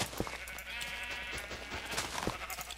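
Minecraft sheep bleat on a grassy farm, drawn-out wavering cries against a busy game background, with a few sharp taps mixed in and no speech.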